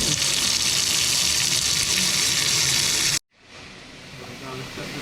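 Tap water gushes steadily into a sink during an overflow test, then cuts off abruptly, leaving a softer trickle and faint background sounds.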